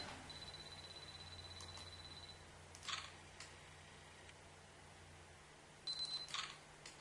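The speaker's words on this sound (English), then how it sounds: "what it's doing is it takes 3 shots in a row" A quiet electronic beep, then a short burst of rapid shutter clicks from a Canon PowerShot A1100 compact camera taking three shots in a row, a pause, and another quick series of clicks with beeping.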